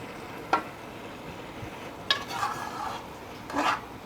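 A spoon stirs drying rice and potato pilaf in a pot over high heat, making intermittent scraping rubs against the pot in three short bursts over a soft steady sizzle.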